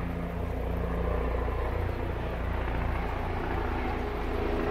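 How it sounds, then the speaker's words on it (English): Helicopter flying in circles overhead, a steady low droning rumble that holds at an even level throughout, with no voices over it. "There goes a helicopter again,"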